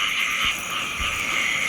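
A dense chorus of frogs croaking around a rice paddy near a rural home, continuous and fairly loud throughout, with no voices over it.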